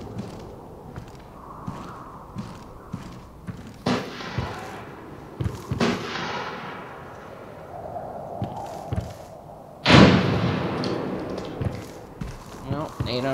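In America's Army: Proving Ground, a grenade explodes in a sharp, heavy blast near the end, following earlier gunfire-like bangs and thumps. A player talks over the game sounds.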